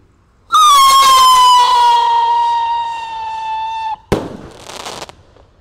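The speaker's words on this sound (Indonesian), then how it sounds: "di sini ada roket roman kendil kembang warna merah ya. Kita nyalakan spesial tahun baru 2025. Siap meluncur." A red Roman candle firework launched for New Year 2025: a loud, close whistling shriek that holds for about three seconds and slowly drops in pitch, then a sharp bang followed by a short crackling burst.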